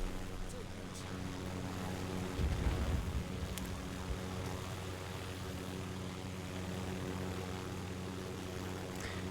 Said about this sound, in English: it looks like it really works to just fly around with a chopper like this